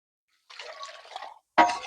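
Liquid fertilizer pours onto a potted tomato plant in a terrace garden as two short, close splashing pours with a brief pause between them, the second starting more sharply.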